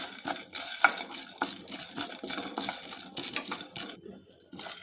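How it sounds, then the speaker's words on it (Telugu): Urad dal, cumin and sesame seeds dry-frying in a pan, heard mostly as a spoon repeatedly scraping and clinking against the metal with a faint crackle underneath, rhythmic and close, then a short pause. "మినప్పప్పు జీలకర్ర నువ్వులు వేసుకొని ఫ్రై చేసుకోవాలి"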